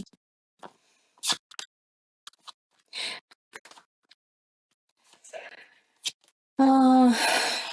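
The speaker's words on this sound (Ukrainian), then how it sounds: "Слухайте, от я прям тасую, що клас." A deck of tarot cards is shuffled in scattered short riffles and taps, mostly quiet and close, ending in a louder, longer burst of shuffling.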